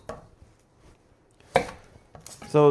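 A knife rough-cuts an onion into quarters on a cutting board, giving a few sharp, separated chops spaced out over a quiet kitchen, with the last strike ringing a little brighter.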